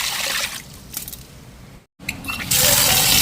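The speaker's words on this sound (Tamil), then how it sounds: "1க்கு 2-3 தடவை நல்ல வடிவாக இந்த மாதிரி குழஞ்சு கழுவி எடுப்போம்." Idli rice being washed by hand in water, with gentle sloshing and trickling that swells louder toward the end; no talk over it.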